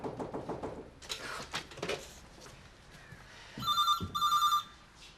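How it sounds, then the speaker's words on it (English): A telephone rings in a home in a 1992 British soap scene, two short bursts of bright electronic trilling following soft knocks and shuffling movement. "I'll get the phone."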